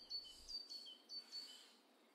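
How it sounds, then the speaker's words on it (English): Faint birdsong of soft repeated chirps and tweets drifts in the background of a quiet, calm outdoor scene, with no talking. "The birds are singing."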